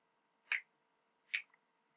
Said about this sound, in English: Now I'm snapping my fingers